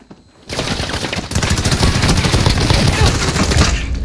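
Rapid automatic gunfire through a wall in Call of Duty Modern Warfare, starting abruptly after a brief quiet moment and continuing as a loud, dense, sustained burst close by.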